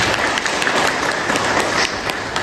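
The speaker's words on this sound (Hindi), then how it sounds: "प्लीज़ आप लोग तालियां बजा दीजिए।" Crowd applause at an outdoor collar distribution ceremony for mithuns, a loud, dense and continuous clapping from many people that stays level throughout with no speech on top.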